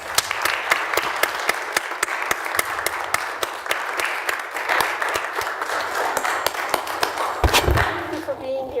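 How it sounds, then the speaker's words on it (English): People at a town council meeting applaud a group of young Eagle Scouts, steady clapping punctuated by a few sharp, distinct claps and a thump near the end, moderately loud and unbroken. "Let's give them a round of applause."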